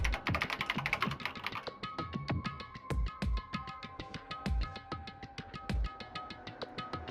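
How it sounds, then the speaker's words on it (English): Keyboard typing sound effect in the Danganronpa video game: rapid, close key clicks tapped in irregular bursts with brief pauses between them, alone without speech. "Kyoko's fingers glided across the keyboard."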